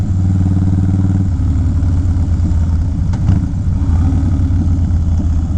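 Close, steady idle of a Harley-Davidson motorcycle fitted with Mustang wide tripper parts, riding home on a road at Christmas; a deep, loud, even engine rumble runs throughout with a slight shift in pitch partway through.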